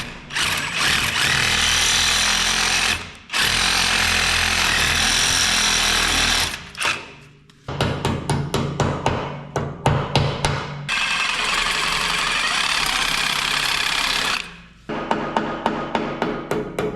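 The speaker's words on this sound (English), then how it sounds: "I think a Sawzall blade will fit in there, and chop them out and put new ones in." A Sawzall reciprocating saw chops worn bushings out of a budget skid loader, loud harsh rattling bursts in several long runs broken by short pauses and quick stuttering restarts.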